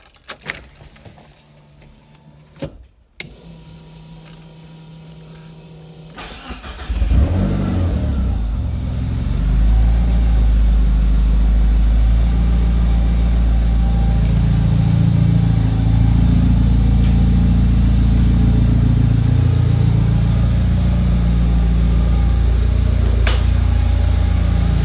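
An old DSM car with a freshly repaired clutch sits quiet, then after a couple of sharp clicks its engine starts and settles into a loud, steady rumble with rising revs that carries on near and alone for the rest of the clip.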